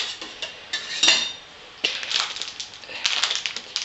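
A utensil stirring agar into a solution in a pot on low heat, scraping and clinking against the metal in irregular strokes, close and moderately loud.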